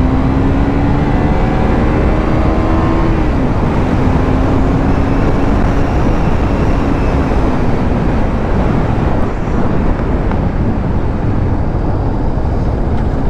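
A KTM RC 390 motorcycle fitted with a Powertronic ECU accelerates, its engine note rising, briefly dropping at a gear change, then climbing again. Heavy, constant wind rush covers much of the sound.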